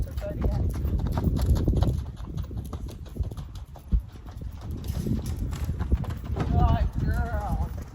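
Tennessee Walking Horse hooves clip-clopping steadily on the ground in a cantering rhythm during a training session, close by, with people talking over the hoofbeats.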